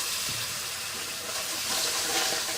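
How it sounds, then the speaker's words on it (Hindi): Water pours into a hot pan of frying spice masala, hissing and sputtering as it hits the mixture, a steady rushing sizzle that grows slightly louder toward the end. "थोड़ा सा इसमें पानी शामिल करूंगी।"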